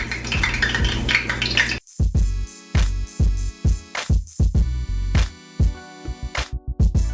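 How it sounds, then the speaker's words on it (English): Buffalo wings go one by one into a pan of melted butter, each landing with a sharp clink of metal and a brief sizzle, in a quick irregular series of close, loud hits. "I'm just gonna go ahead and place these in the pan"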